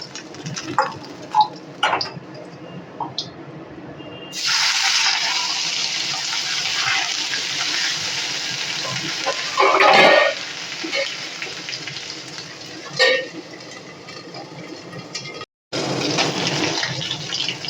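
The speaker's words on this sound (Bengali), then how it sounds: "এইভাবে আমি সবগুলো মাছই কিন্তু ভেজে তুলে নেব।" Tengra fish fry in a pan of hot oil, a loud, continuous sizzle that starts abruptly and runs on with a few clattering knocks as pieces are turned and lifted out.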